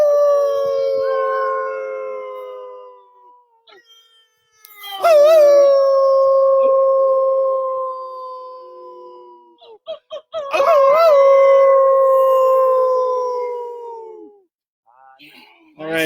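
Dogs howling outdoors in the cold at night, two long sustained howls with brief whimpers and yips between them, loud and close with no talk.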